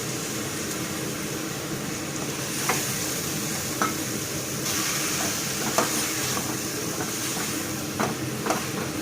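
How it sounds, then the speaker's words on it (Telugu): Prawns frying in masala for biryani are stirred steadily in a pan, giving a continuous sizzle broken by occasional sharp scrapes and clinks of the spoon against the vessel. "ఈ మసాలా అంతా కూడా బాగా రొయ్యలకి పట్టేలాగా మనం బాగా కలుపుకోవాలండి"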